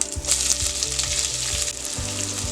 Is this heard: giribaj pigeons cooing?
no